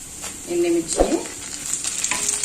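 Tempering spices and dried red chillies hit hot oil for a ginger chutney, bursting into a loud, close sizzle with a sharp spatter near the start and steady crackling after.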